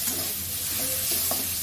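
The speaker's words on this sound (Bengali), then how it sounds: "পাট শাক এইভাবে ভাজা।" Jute leaves fry in a pan as a spoon stirs them, a soft continuous sizzle broken by light scraping strokes, close and steady with no voices.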